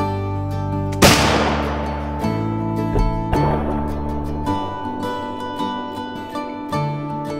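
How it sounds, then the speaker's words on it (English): A single sharp, loud shot from a .45 caliber primitive rifle fired at a rotting log outdoors in Kentucky. It cracks once and rings out in a decaying tail over steady background music, with a fainter thump a couple of seconds later. "Now Trinity's getting ready to shoot this 45 caliber."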